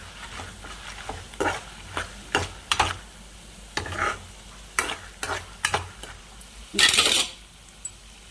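Curry leaves are stirred into pulihora with peanuts in a pan, a series of sharp metallic spatula scrapes and clinks at an uneven rhythm over a soft frying sizzle, ending with a louder rattling burst.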